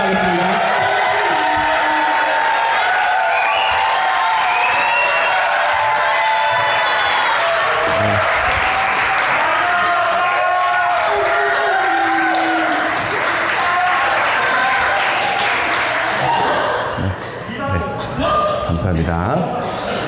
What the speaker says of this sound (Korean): 우리 김충희 목사님 나오실 때 우리 큰 박수로 환영하겠습니다